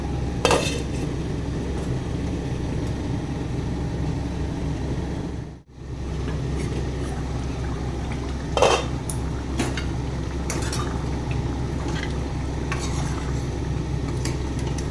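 A metal lid is set on a cooking pot of dry fish curry with fried eggs and potatoes, giving a brief clink over steady, close kitchen noise and scraping.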